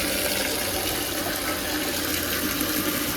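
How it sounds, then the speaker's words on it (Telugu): Water poured into a bucket during a water-resistance test, a loud, steady, rushing splash that runs continuously without pause or voices. "ఇవ్వండి బకెట్లోకి వాటర్ కూడా చల్లుతున్నా."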